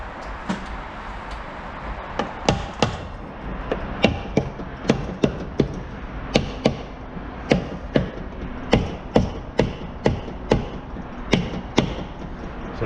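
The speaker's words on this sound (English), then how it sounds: "using the handle end of the hammer, try to tap it in a little bit to allow it to engage that seal" Hammer handle tapping a transmission pump into its seal during a transmission overhaul, a steady series of sharp, close knocks at roughly one per second, clean with no talk.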